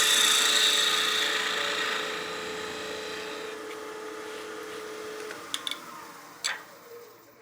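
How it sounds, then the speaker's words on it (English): A wood lathe spins while a spindle gouge cuts end grain on a small turned bat house ornament, a steady whirring rasp that fades over several seconds, followed by a few sharp clicks and taps. "Spindle gouge is going to clean this up nice"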